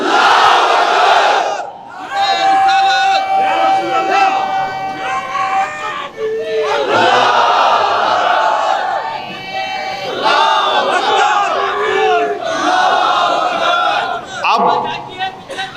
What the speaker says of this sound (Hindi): अब लगाओ नारा, नारे तकबीर।